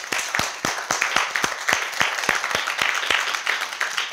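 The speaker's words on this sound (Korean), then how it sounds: "이 자리를 빌어서 우리 이모님들에게 박수 한번 쳐주세요" An audience gives a round of applause for caregivers at an event. The claps are crisp and fairly close, with a quick irregular rhythm that holds steady for several seconds, and there is no talk over them.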